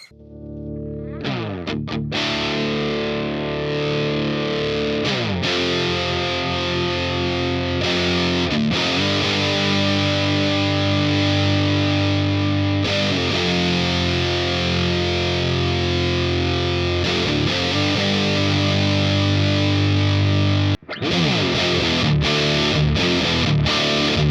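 A heavily distorted electric guitar through a DemonFX Fat Mouse fuzz/distortion pedal sustains thick, buzzy, grungy fuzz chords for a long stretch, with the tone shifting gradually as knobs are swept and a brief cut near the end.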